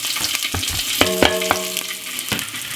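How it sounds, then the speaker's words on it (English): Garlic cloves and spring onion fry in olive oil, a close, steady sizzle broken by sharp clicks and scrapes of stirring, with a few brief tonal clinks and no talking. "I'm gonna pop a little bit of oil, just a little pinch of olive oil. Then we're gonna put about 10 cloves of garlic and 2 spring onion."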